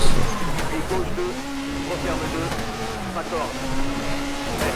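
Rally car engine droning with a rising and falling whine in the WRC 4 video game, held steady under someone talking throughout.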